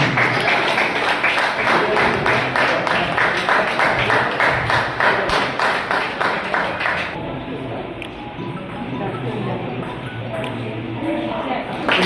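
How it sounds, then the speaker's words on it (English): An audience at a state-level table tennis championship claps in a dense, rapid patter that eases after several seconds into quieter scattered noise, with a voice talking alongside. "give a huge round of applause, please."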